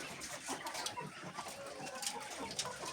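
Chickens clucking steadily in a coop, where they have just been moved along with quails, a continuous busy chatter of several birds with occasional louder calls, close and alone.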